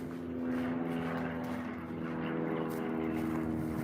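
A small Cessna propeller plane drones steadily overhead at a distance, a low humming engine tone holding fairly constant throughout.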